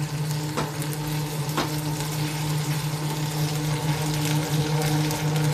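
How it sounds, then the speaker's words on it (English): Steady crackling sizzle of food frying in a pan, continuous and close, with a low hum underneath and a couple of brief clinks. "look at that sizzle"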